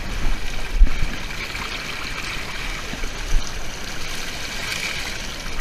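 Water washes steadily through a Cali sluice box while the material is rinsed out, a continuous close trickling and gurgling stream with a couple of soft knocks and no talk.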